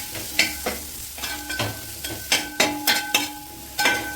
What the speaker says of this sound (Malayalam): കിഴങ്ങ് ചേർത്ത് ഇതുമായിട്ട് നന്നായിട്ടൊന്ന് മിക്സ് ചെയ്തതിന് ശേഷം